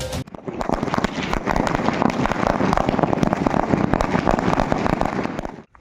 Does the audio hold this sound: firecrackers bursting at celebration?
yes